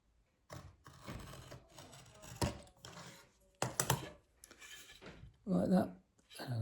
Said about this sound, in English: I can now take each one of those lines and I can draw it on with my sharp knife